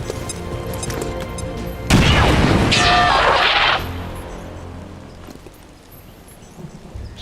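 Airstrike bombs exploding in the video game XCOM 2, a sudden loud blast followed by a rumbling roar that holds for about two seconds and then fades into a low, distant rumble.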